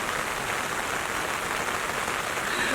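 Steady rain falls in a garden during bare-root tree planting, a constant even hiss of drops throughout with no other sounds.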